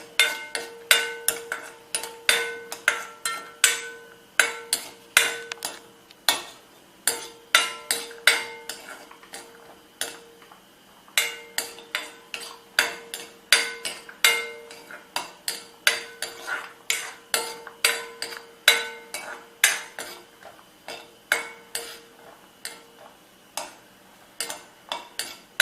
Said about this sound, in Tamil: இப்போ இதில் வந்து இந்த முந்திரி பருப்பை போட்டு முதல்ல ஃப்ரை பண்ணி எடுத்துக்கலாம்